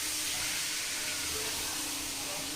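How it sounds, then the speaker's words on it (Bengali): Water poured into chicken kosha cooking in a pan, giving a steady, broad sizzling hiss that holds evenly throughout at a moderate level, with no talking. "বাটিতে আলু ভাজা ছিল সেই বাটিতেই জল নিয়ে মাংসতে জল দিয়ে দিচ্ছি"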